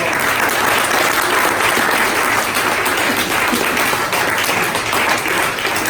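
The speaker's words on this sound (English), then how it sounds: "So I think we can all applause very much." Loud, dense applause fills the room from an audience at a community maker event. The clapping holds a steady wash from start to finish with no break.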